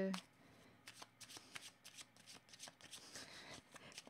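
Tarot cards being shuffled by hand, a close, quiet run of rapid papery riffles and flicks in an uneven rhythm, with a person talking softly over them.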